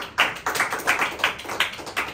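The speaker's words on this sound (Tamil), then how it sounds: "கைத்தட்டி ஆண்டவரை மகிமைப்படுத்தும்." A church congregation claps hands in praise, about six evenly spaced, moderately loud claps in a steady rhythm.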